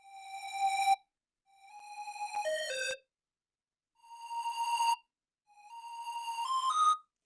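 Dry square-wave synth lead with the reverb switched off plays four short buzzy phrases of held and stepping notes, each stopping abruptly into silence with no tail.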